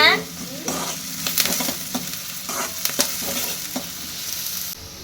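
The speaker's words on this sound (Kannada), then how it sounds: "ಮೆಣಸಿನಕಾಯಿ ಉಳ್ಳಾಗಡ್ಡಿ ಮಸ್ತ್ ಫ್ರೈ ಅದು" Chilies and onions fry steadily in a pan, a continuous close sizzle broken by repeated scraping stirs and a few sharp clinks of a spoon against the metal.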